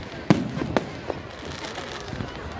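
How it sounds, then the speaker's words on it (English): Fireworks bursting at a large bonfire night display in Derbyshire: a few sharp, distant bangs and crackles spaced irregularly over steady crowd ambience, with faint talk in the background. "Do you like the fireworks, Millie?"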